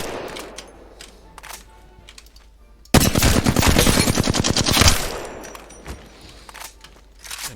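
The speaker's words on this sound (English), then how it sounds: "The R99 is a super fast weapon, but it's bad." A rapid R99 submachine gun burst in Apex Legends, a dense, fast-cycling volley lasting about two seconds, loud and close, followed by faint scattered clicks and steps.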